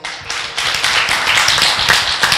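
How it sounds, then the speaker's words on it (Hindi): Audience clapping for top ten dancers in a televised dance competition, a loud, steady burst of many hands that continues throughout without talk. "तो सबसे पहले तो इनके लिए तालियां हो जाए"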